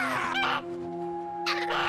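Feather goat squawks in Goat Simulator 3, two clucking bird-like calls sounding close, separated by a pause, over a steady game tone.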